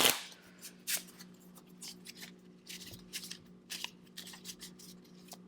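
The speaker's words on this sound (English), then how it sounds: "Let's shuffle a little bit more." Tarot cards shuffled by hand give a run of crisp riffling snaps and soft shuffles, close and fairly quiet, in irregular bursts with no talking.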